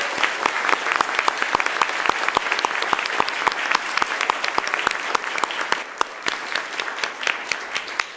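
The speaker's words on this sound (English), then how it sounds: "We could all have a round of applause for these great..." A meeting audience applauds steadily throughout, dense clapping at a constant level from start to end.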